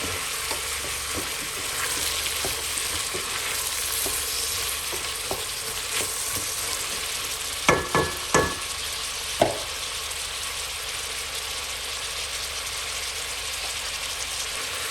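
Squash, garlic and white onion sautéing in a soup pot give a steady close sizzle, with a few louder clatters of stirring near the middle and no talking.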